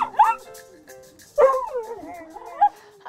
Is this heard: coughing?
no